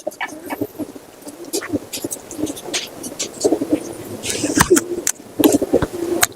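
Several frilled pigeons coo close by in soft, repeated throaty calls, with scattered rustles and faint background noise.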